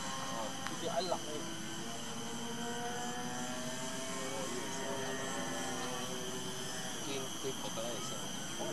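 A modified twin-propeller balsa model trainer plane drones overhead with a steady buzzing engine whine that wavers in pitch as it flies, heard outdoors at moderate distance under occasional voices.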